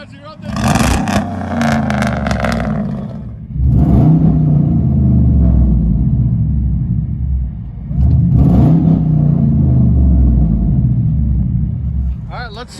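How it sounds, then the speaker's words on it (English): A 2011 Chevy Silverado 2500HD 6.0L V8 with true dual straight-pipe exhaust revs in repeated bursts, deep rumbling exhaust swelling and settling three times, close by, with no talking. "Any given minute, they love to hear the sound of exhaust."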